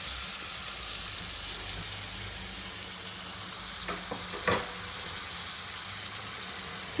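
Golgappa puris sizzling in ghee in a pan, a steady soft frying hiss with a few brief crackles and pops, quiet and close with no talking.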